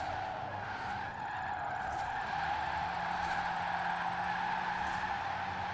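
A fully electric drift car slides sideways in Forza Horizon 4, holding a long, steady tire skid over a smooth motor whine with no talk.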